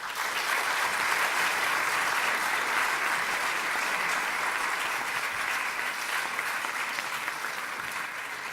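Warm audience applause after a sacred Sikh music performance at an evening event, a dense, sustained crowd of clapping hands that stays strong throughout before easing slightly.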